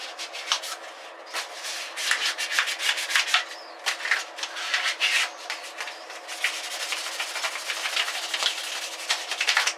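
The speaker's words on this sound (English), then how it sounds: "Now this is a wet dry sandpaper" Dry wet-dry sandpaper is rubbed by hand over a bicycle bar end to clear flaking paint and rust, making a close, scratchy rasp in quick back-and-forth strokes that run steadily for about ten seconds.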